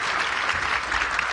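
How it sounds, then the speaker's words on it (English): A studio audience applauds news creators at the end of a media panel, a steady dense wash of clapping that carries on without a break, with no voices over it. "Big round of applause, please, for our news creators today."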